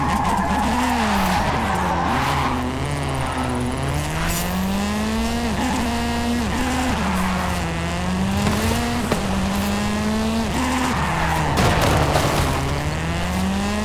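A car drifting in Forza Horizon 5 lets out a long, continuous tire squeal with wavering pitch over a steady engine drone, loud and close throughout.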